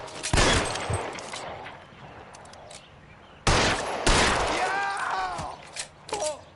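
Gunfire in the crime game L.A. Noire comes as sharp, loud shots: a couple of early cracks, a quieter stretch, then a sudden burst of rapid shots and clattering, with a shouted voice near the end.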